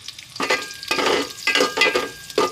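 Onions frying with turmeric, salt, chili powder and cumin in a pan are stirred, loud close sizzling broken by rhythmic scraping strokes roughly every half second.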